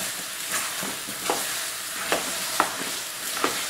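Apple pieces stirred in a saucepan while caramelizing, with a gentle, continuous sizzle, punctuated by a few soft scraping knocks of a utensil every second or so.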